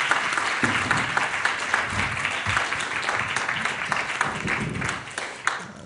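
An audience applauds steadily in a hall as people leave, dense clapping filling the room at a constant level before thinning slightly near the end.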